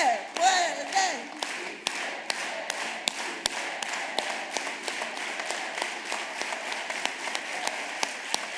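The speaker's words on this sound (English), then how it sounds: "let's all do it with an organized hand clap" An audience at a community award event claps in unison, a steady rhythmic beat of sharp claps about twice per second, preceded by a brief burst of cheering and voices at the start.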